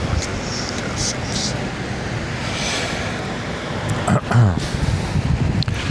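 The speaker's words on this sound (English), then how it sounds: "It's amazing how much this little cheap microphone cuts out the sound of the wind" Wind blowing outdoors, heard through a small cheap microphone as a steady muffled rumble and hiss with brief gusty buffeting bursts toward the end.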